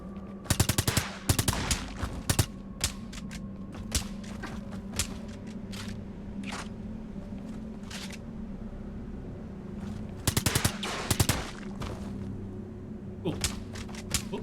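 Gunfire in the game Brigador Killers: scattered sharp shots and rapid automatic bursts, clustered at the start, around ten seconds and near the end, over a steady low mechanical hum.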